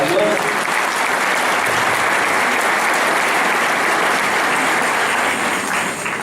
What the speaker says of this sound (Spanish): Primero fue un aplauso para Dios.